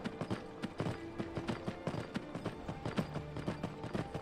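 Horse hooves clip-clop in a steady trotting rhythm while riding in the virtual reality game Skyrim VR, fairly quiet and close, with no talk over it.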